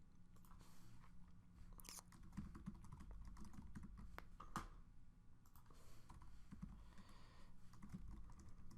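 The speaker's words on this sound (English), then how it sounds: "Maybe I'm typing a narrative." Fingers type on a computer keyboard while an incident narrative about loitering is entered, giving quiet, dense, irregular clicks and taps with no voices.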